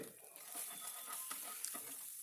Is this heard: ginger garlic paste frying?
yes